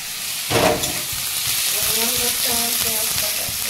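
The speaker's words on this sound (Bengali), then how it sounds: "এদিকে মাছের তরকারিটা চাপাবো, পেঁয়াজ দিলাম।" Onions frying in a pan for a rohu fish curry, a loud hiss bursting up as they hit the oil and then settling into a steady sizzle with light stirring.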